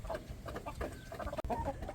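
Older laying hens clucking and murmuring close by in short overlapping bursts, with a brief sharp click partway through.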